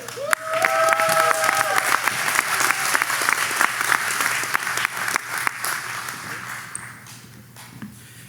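Audience applause and cheering at a college commencement ceremony, loud sustained clapping in a large hall with a few high whistles early on, slowly thinning toward the end.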